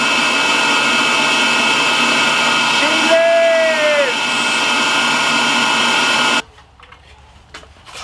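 A Kirby vacuum cleaner running on a workbench without its case, a loud, steady motor whine with a brief dip and rising pitch sweep midway, then switching off to near quiet with small clicks.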